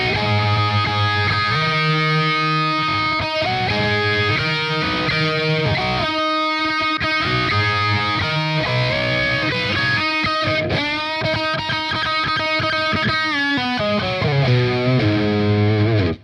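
Distorted electric guitar with a phaser effect plays a fast solo, a continuous run of quick picked notes and sweeping tones, loud and unbroken throughout with no talking.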